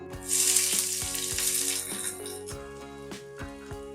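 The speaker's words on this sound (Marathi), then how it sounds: "तो ऑइल आपलं गरम झालेलं आहे आता या स्टेजला आपण कांदा ॲड करून घेऊया" Onion hitting hot oil in a pan sizzles loudly at first, then settles into a steady frying hiss, with a background tone holding throughout and no talking.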